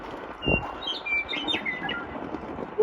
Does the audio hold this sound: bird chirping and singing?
yes